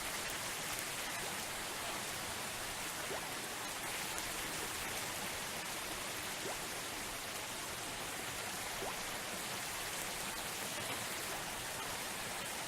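Steady rain falling in the video game Rainswept, a continuous even hiss of drops that stays constant throughout, moderately faint with no voices.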